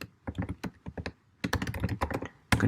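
Computer keyboard typing while entering a container config command, with quick clusters of close, crisp key taps separated by short pauses and a final louder burst.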